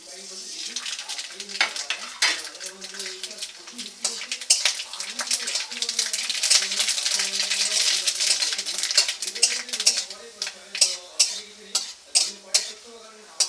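Mustard seeds hitting hot oil for a chaltā and āmṛā chutney, a steady close crackling sizzle with spoon stirring and scraping against the pan, ending in a few sharp clinks.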